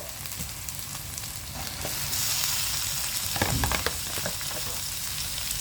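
Pork rib bones stir-fry in a hot pan for a pineapple pork bone soup, a steady close sizzle that swells louder partway through, with brief scraping stirs.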